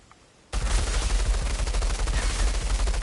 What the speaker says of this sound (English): Here's the submachine gun.